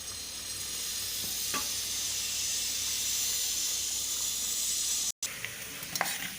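Grated copra sizzles steadily in a pan over a low flame for jackfruit payasam, a continuous close hiss with a brief dropout near the end and a few faint scrapes of stirring.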